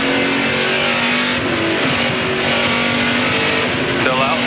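Onboard engine of a NASCAR stock car at the 2001 New Hampshire 300, a loud continuous drone holding near-constant pitch with a slight shift mid-lap and a short rise near the end, under a commentator's speech.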